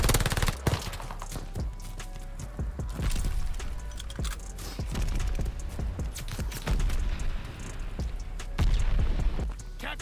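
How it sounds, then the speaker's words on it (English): Gunfire and mortar blasts in a Call of Duty Vanguard multiplayer match: repeated sharp shots and heavy thuds in irregular bursts, loud and close, with a few louder volleys near the end. "Allies calling a mortar barrage."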